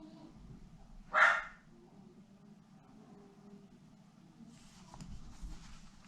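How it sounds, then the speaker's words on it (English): A single sharp dog bark, fairly distant, over quiet background hum, followed later by a soft rustling noise. "wonder if you guys can hear the dog barking."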